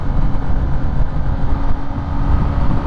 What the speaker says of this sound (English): I love the rumbles of an STI, of a Rex, of a WRX. I love it, man. The box engine